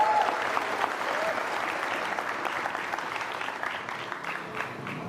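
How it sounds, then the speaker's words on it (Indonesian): Audience applause at a television talk show, steady dense clapping that gradually softens over several seconds. "Kasih tepuk tangan dong,"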